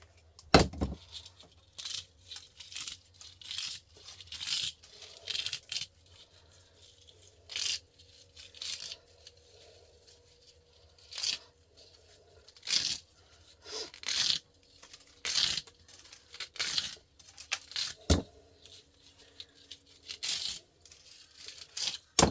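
Plastic being bent and snapped off a washing machine pump, a run of sharp crackling snaps and creaks in irregular bursts, close and fairly quiet.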